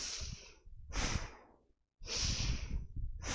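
Forceful yoga breathing during a Kundalini-inspired class: two loud, breathy exhale-and-inhale bursts, close to the mic, separated by a short silence, with no talking.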